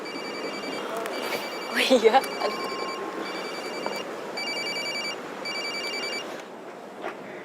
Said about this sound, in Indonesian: Telepon tuh, angkat.